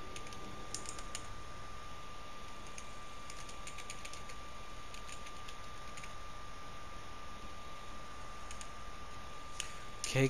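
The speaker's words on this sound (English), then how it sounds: "let's go congratulations to the top 3 drivers by doing some typing on the keyboard" Computer keyboard typing during a Gran Turismo 7 esports broadcast, bursts of quick light clicks with pauses between, fairly faint over a steady hum, with a louder click at the end.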